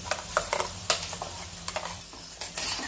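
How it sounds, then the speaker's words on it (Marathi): Peas and turmeric are stir-fried with finely ground green masala in a pan, with repeated close scrapes and clinks of a spoon over a soft sizzle and no speech. "आणि छान परतून घ्यायचं आहे"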